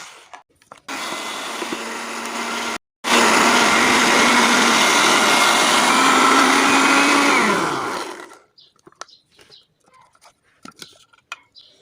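A kitchen blender grinds lemons, peel included, in one loud continuous whir of about seven seconds after a short start and brief pause, then stops, leaving faint clatter.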